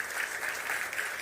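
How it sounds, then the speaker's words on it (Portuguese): Audience applause for a history professor at a university mock-trial event, steady crackling clapping throughout a short stretch with no talk, moderately loud in a hall. "Vamos aplaudir a professora."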